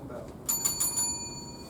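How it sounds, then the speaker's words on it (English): A debate timing bell rings a quick series of bright, clear dings, about four strikes in rapid succession, then rings on faintly against a quiet hall. "A warning bell will ring once at 3 minutes, and a continuous bell will ring 30 seconds after the final bell."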